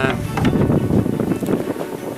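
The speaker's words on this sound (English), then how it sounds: "there's a lot of wind" Strong wind gusting by a lake at an autumn canoe campsite, a steady loud rush with buffeting on the microphone and no talk.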